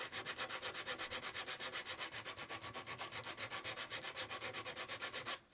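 Emery cloth sanding a 3D printed model in quick, even back-and-forth strokes, a fast regular rhythm of soft rasps, close and faint, stopping abruptly at the end with no talk.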